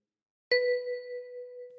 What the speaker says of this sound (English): With your right thumb, pluck number 7.